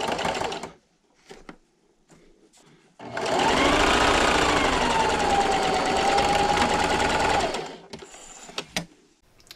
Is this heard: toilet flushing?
no